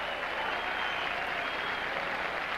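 Tennis crowd at the 1978 Forest Hills match applauding a point, a dense, steady wash of clapping that holds loud and even for the whole stretch with no talk over it.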